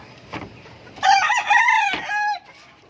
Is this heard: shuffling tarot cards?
no